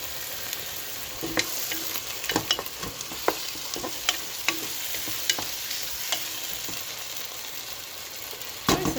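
Egg masala curry with tomatoes sizzles steadily in a pan, a continuous hiss of frying broken by scattered scraping stirs and clinks, close and with no voices.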